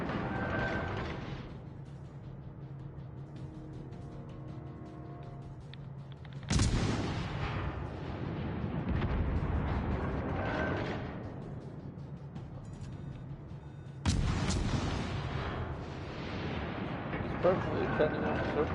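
Heavy gunfire striking a battleship in a naval video game, with two loud sudden blasts each followed by a long rumbling decay, and game sounds running underneath.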